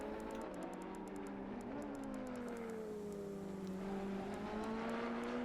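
Ferrari race car engines in a racing game, a steady whining drone with shifting pitch from the field of cars, faint and continuous with no talk.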